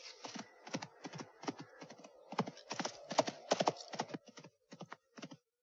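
Horse hooves clip-clop steadily on a hard surface in a 1964 horror film, the horse moving briskly. The beats are sharp and close, rapid at first and thinning out toward the end, with no talking.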